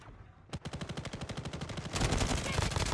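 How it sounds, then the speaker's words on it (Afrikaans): Rapid automatic gunfire in a shooter video game during a ladies' scrim match, a fast regular burst of loud close shots that thickens into a denser overlapping barrage, with no voices. "Die skote wat nou geskiet word daar op Barbie"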